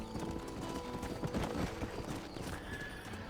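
Hooves clip-clop at a steady gallop while a horse whinnies, a dark spooky-aura horse named Death in the Red Dead Redemption zombie game, loud and close over continuous in-game ambience.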